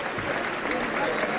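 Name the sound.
boxing crowd applauding boxer leaving ring on stretcher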